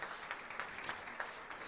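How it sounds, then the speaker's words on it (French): An audience at an innovation awards ceremony gives a short burst of applause for the nominees, soft and distant, with steady clapping and no talk. "je crois qu'ils méritent vos applaudissements"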